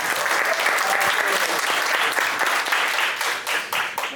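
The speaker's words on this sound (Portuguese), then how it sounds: "recebam com uma salva de palmas, André Chaves!" Audience applause fills a venue as a speaker is welcomed on stage at a Brazilian tech conference, dense steady clapping throughout with light crowd noise and a faint voice underneath.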